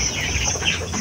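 Chickens of the same age clucking in a small poultry shed, a steady close murmur of fowl calls that carries on without a break.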